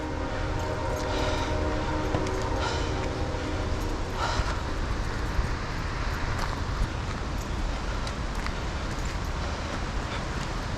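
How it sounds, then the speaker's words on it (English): A train rumbles past close by a parking lot in Ohiopyle, Pennsylvania, with a loud, continuous roar and rattle of rail cars and a faint horn. "And the train is going right by the parking lot"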